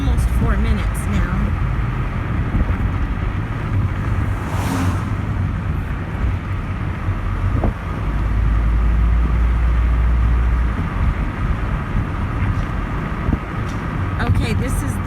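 A car drives through town with a steady low engine and road rumble from inside the cabin, and a voice talks over it through much of the stretch.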